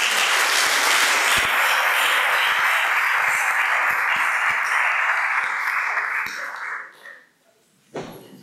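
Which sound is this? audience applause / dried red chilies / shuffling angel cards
audience applause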